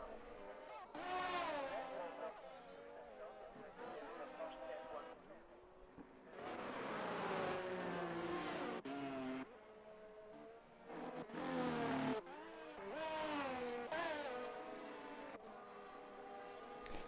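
A Formula 1 car in the F1 23 video game on soft tyres, lapping the Austrian Grand Prix circuit: the engine screams up and down through repeated rising revs and gear shifts, moderately loud, with a voice talking over it.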